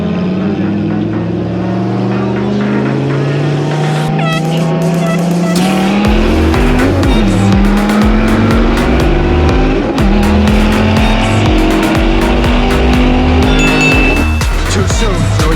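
A Dodge Viper ACR and a Challenger Hellcat drag race: loud engine roar climbing through rising revs with gear-change dips, tire squeal and aggressive acceleration building over many seconds, close and intense.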